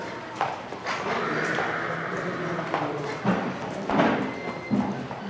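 A horse being lunged moves around its handler, hooves thudding dully on the ground in an uneven rhythm, with a few sharper knocks over a quiet outdoor background.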